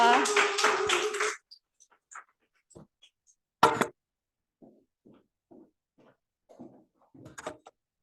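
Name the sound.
audience applause after a lecture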